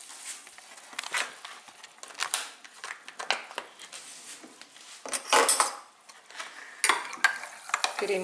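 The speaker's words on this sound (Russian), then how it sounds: "Перемешиваем." A spoon clinks and scrapes against a bowl while a thin, runny homemade sauce is mixed, with irregular taps and clatters coming close and fairly quiet, and no talking.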